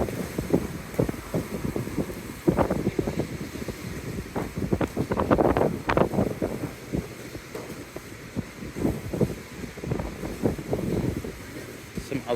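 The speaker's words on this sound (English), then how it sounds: "Still very windy." Strong wind at Daytona Beach buffets the microphone in heavy, uneven gusts that rise and fall over faint street background, with no clear talk.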